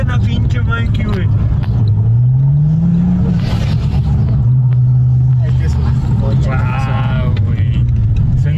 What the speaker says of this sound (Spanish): Yo por eso ya no voy rápido, ya nada más revoluciono a 3000 y suelto.